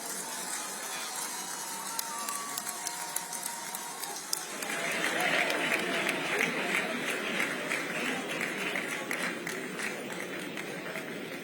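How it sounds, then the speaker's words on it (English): An audience claps as Olusegun Obasanjo walks in at a ceremony honouring General Yakubu Gowon at 90. The applause swells partway through into dense, sustained clapping, with a voice talking over the start. "Continue to clap, it's a long walk."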